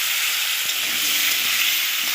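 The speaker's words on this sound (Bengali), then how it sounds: "আলুগুলো ভেজে নেব।" Potato pieces coated in salt and turmeric frying in a pan give off a loud, dense, unbroken hiss of hot oil, close up, with no talking.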